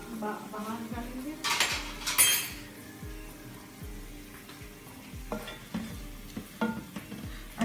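A spoon scrapes and clinks against a pan of golden fried onions sizzling in oil, with repeated stirring strokes, metallic knocks and bursts of frying hiss up close.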